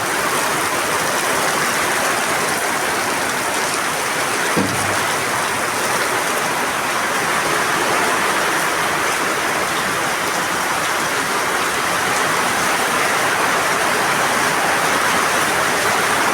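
Heavy rain pours down steadily across the Bagara area, a dense, unbroken roar of water without pause. Loud and close throughout, with no voices.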